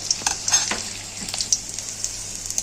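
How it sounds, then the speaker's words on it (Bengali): Green chilies and black cumin seeds frying in oil as a tempering, a bright crackling sizzle with intermittent spatters and light stirring scrapes, close and steady. "লঙ্কাগুলো দিলাম তার সঙ্গে কালো দিকে ফোড়ন নেড়ে চেড়ে ফোড়নটা ভেজে নিলাম"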